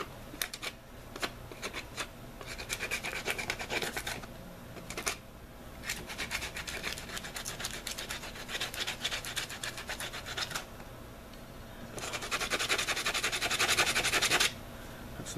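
A Cold Steel rubber training knife being sanded with coarse 40 grit sandpaper, heard as bursts of close, rough scratching strokes separated by brief pauses, with nothing else over it.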